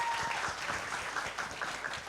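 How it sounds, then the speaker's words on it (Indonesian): A soft, dense wash of applause from a seated audience at the Swargaloka 33rd anniversary celebration honours Mas Fajar, faint and distant, with no talking over it. "Tepuk tangan Mas Fajar."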